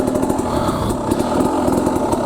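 An enduro motorcycle engine putters steadily at low revs, close by, as the rider leans the bike through a full-lock turn.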